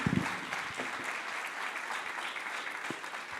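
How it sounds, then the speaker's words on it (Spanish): An audience at a university forum anniversary event applauds loudly, steady clapping filling the room for several seconds, with a few louder claps near the start and no talk. "Fuerte aplauso."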